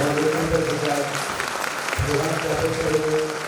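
An audience at a university National Youth Day program claps continuously in a broad wash of applause, while someone speaks over it through a loudspeaker.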